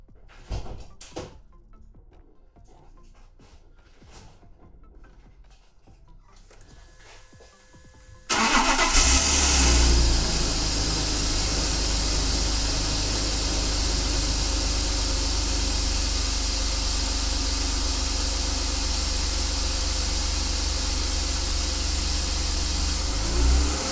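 BMW E36 engine with a newly replaced alternator cranking and firing up after quiet rustling, then settling into a loud, steady idle close by.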